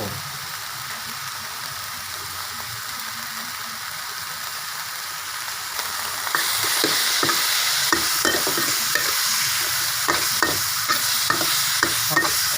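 Spicy frog stir-fried with fingerroot, fresh chillies and long beans in a wok: steady close sizzling that turns louder and brighter halfway through, with repeated scraping stir strokes of the spatula.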